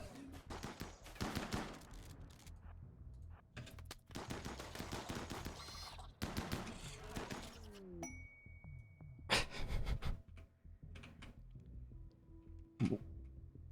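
Gunfire from the video game RimWorld: repeated bursts of shots in clusters through the clip, fairly loud against a game background, with occasional chime-like tones.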